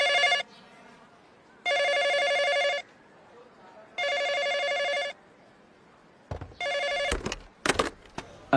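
A telephone rings in three evenly spaced bursts with pauses between, bright and clear, then a few clattering handling noises follow.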